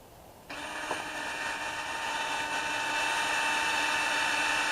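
A steady, high-pitched power drill starts abruptly and runs continuously while installing a backyard fence, whining evenly at close range without pause.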